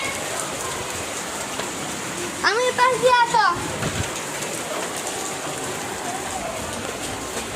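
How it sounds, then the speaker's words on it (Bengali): Heavy rain falls in a steady, close hiss on a surface, while a voice speaks briefly in the middle. "আজকে কি যে বড় বৃষ্টি আইলো"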